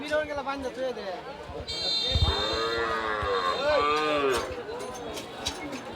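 Several cattle moo in long drawn-out calls, overlapping one another amid the murmur of a busy crowd at the weekly Niamatpur cattle and goat market in Kishoreganj, Bangladesh.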